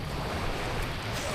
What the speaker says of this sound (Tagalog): Ito hindi naman gaano malakas si alon.